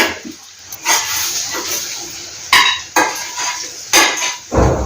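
Cooked ivy gourd and cumin-chilli curry being served from the pan with the stove off, with sharp metallic clinks of a spoon scraping and tapping the pot at irregular intervals, close and fairly loud.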